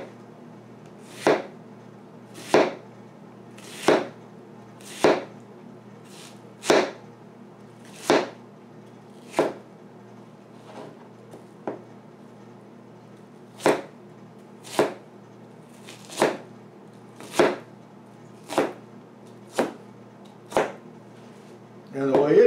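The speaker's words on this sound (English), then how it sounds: "And the way it chops is like this. Each time it touches, it cuts everything flat." A kitchen knife beveled on both sides chops chili ingredients on a board, sharp single strokes at a slow, even pace about a second apart, close and clear, with someone talking now and then.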